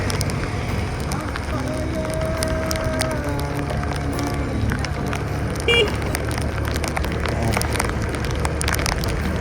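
Steady rain hisses in a dense, constant wash, with scattered drops ticking and faint background activity beneath it.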